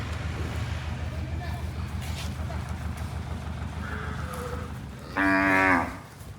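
A cow moos once, loud and close, near the end, at a gurukul cowshed in Rapar, with a steady engine-like rumble and low background noise throughout.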